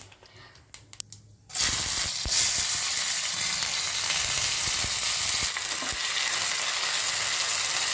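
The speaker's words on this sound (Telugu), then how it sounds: "ఆయిల్ మంచిగా గరమైందండి. గరమైన తర్వాత నేను వేసేసాను అనమాట" Seasoning hits hot oil for a desi masala pasta and bursts into a loud, steady sizzle after a second and a half of quieter clinks, then keeps frying evenly to the end with no talk.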